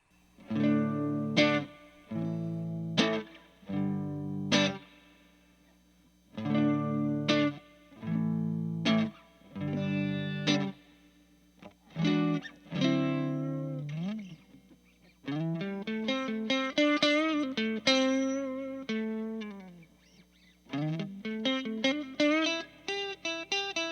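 A vintage Japanese electric guitar on its neck pickup, with a clean, warm tone, plays repeated chords, then moves into a run of single notes and bends, with no talking.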